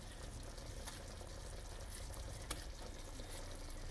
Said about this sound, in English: The sauce is cooking beautifully.